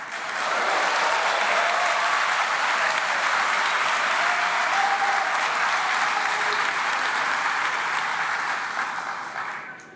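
Sustained, loud applause fills a parliament chamber during the opening of an ordinary legislative session, a dense steady roar of many clapping hands that holds for nearly the full span before tapering slightly at the end.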